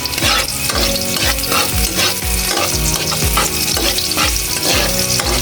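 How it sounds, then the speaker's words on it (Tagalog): Food frying loudly in a pan before fish goes in, stirred in quick repeated strokes, rhythmic scraping over a constant close sizzle, no voices. "So yan, haluin natin"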